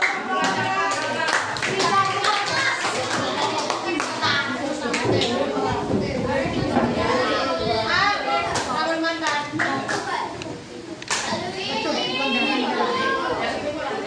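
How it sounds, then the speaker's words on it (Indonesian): A classroom group of schoolchildren clapping during a Pancasila project lesson, dense rhythmic hand claps continuing throughout, mixed with children's chatter and an adult voice. "kita beri tepuk tangan"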